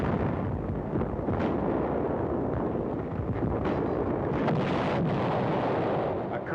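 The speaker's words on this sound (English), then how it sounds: "crewmen find it necessary to shield the vehicles by tossing out white phosphorus grenades" Continuous dense rumble of white phosphorus grenades and battlefield explosions from a WWII combat film, loud and steady throughout with no clear separate blasts.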